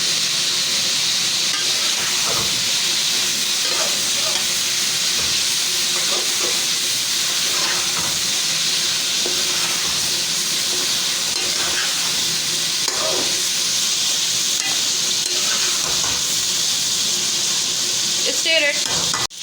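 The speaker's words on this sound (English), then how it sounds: "Stir it until it changes the color." Chicken pieces frying in a pan for chicken karahi, a continuous loud sizzle and hiss broken by repeated scraping stirs of a spoon against the pan, with no talk heard.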